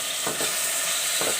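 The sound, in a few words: green chillies added to sizzling keema in pan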